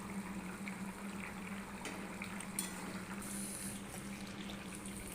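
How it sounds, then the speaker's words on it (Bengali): Soybean curry with potato and pointed gourd simmering in a pot: a steady, soft bubbling hiss with a constant low hum, continuous and unbroken, with no talk. "আর একটু ফুটে যাক, আর আরও একটু জল শুকিয়ে আসুক"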